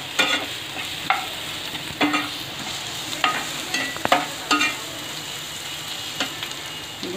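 Green chilli, cumin, mustard seeds and ginger-garlic paste frying for an Andhra prawn curry, a constant sizzle punctuated by regular spoon scrapes and taps against the pan, close and clear.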